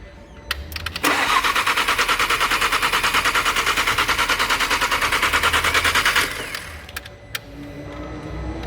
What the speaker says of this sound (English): You're gonna have a long crank because it has ethanol inside. I doubt we're gonna start fast.